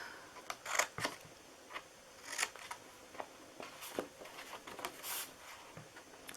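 Scissors snip through the bottom flaps of a paper gift box in a string of short, quiet, close crisp cuts and paper rustles at an uneven rhythm, with no talking.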